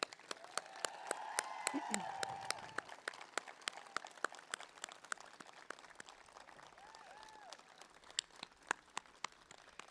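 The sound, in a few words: audience applause at a graduation ceremony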